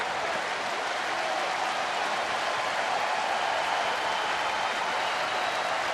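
Fenway Park crowd at a baseball game in the 6th inning with bases loaded, a steady roaring cheer and applause that holds loud and unbroken throughout.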